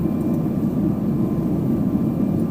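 Airplane engine in the video game Arma 3, a steady, close low drone with a broad rumble that holds even and unbroken throughout, with no voices.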